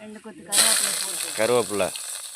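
Mustard seeds hit hot oil while making a spicy dried-fish thokku, setting off a sudden bright hissing splutter that carries on steadily, with a person talking over the sizzle.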